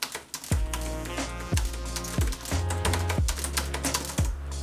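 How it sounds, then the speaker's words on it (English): Keys clack on a Brydge keyboard attached to a 2018 iPad Pro, a quick, close run of crisp presses in steady bursts over a faint tonal background. "Okay, let's type a quick note."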